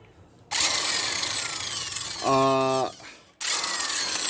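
Electric impact driver with a 22 mm socket spinning off the variator nut on a Honda Activa 125 scooter engine; loud whirring bursts with a brief rattling hammer section in the middle, then more whirring after a short pause.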